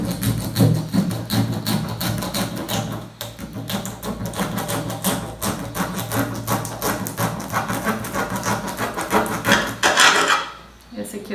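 A serrated knife saws through a dried vegetable loofah sponge in a dense, continuous run of rasping, scratchy strokes that stay close and fairly loud throughout, easing off near the end.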